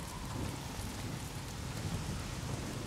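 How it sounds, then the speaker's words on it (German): Steady, dense downpour of heavy rain in the video game Days Gone, with a constant hiss and low rumble, no voices. "Starker Regen."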